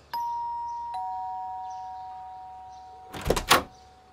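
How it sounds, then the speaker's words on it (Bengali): An electronic doorbell at a three-storey house sounds two ding-dong chimes that ring out and decay slowly, followed by a brief clatter of door noise near the end. "সেই বাড়ির কলিং বেল বাজালো"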